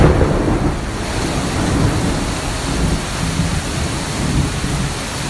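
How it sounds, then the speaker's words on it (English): Heavy rain pours down steadily with low rumbling thunder rolling underneath, loud and continuous, with no voices. "It's raining bad outside and it's thundering and it's lightning."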